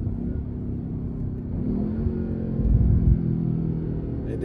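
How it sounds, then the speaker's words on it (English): BMW M8 Competition with catless downpipe and Eventuri intakes, its engine rumbling steadily then rising in a brief louder burst around the middle as it downshifts, heard from inside the car with no talk. "And then the downshifts."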